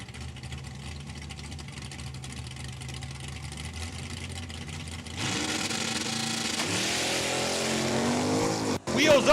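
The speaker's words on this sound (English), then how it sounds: "Wheels up on the fair lane in the left-hand lane." A 1966 Ford Fairlane and a Mustang make test passes at a drag strip at Saskatchewan International Raceway, heard as a steady engine drone that jumps louder midway into a sustained roaring launch, with a commentator talking over it.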